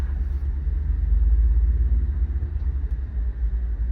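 A 2021 Ford F600 service truck with a 7.3 V8 and 4x4 drives along a short cul-de-sac, giving a steady, loud low engine rumble with road noise and no talk.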